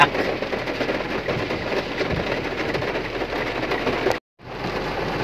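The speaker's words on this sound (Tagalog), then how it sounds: "Ayan guys, malakas na naman yung ulan." Heavy rain drums on a roof in a dense, loud, continuous roar, outdoors near Rockwell; the wash cuts out abruptly for a split second near the end, then resumes.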